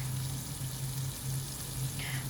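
Steady, continuous sizzling of meat frying in olive oil in a hot pan, close up, with a low hum underneath.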